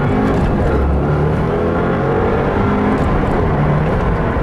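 Engine of a 2015 Subaru WRX with flat foot shifting set at 6,000 RPM, droning loudly and continuously near the microphone, its pitch shifting as the revs climb and fall through gears, with no talking.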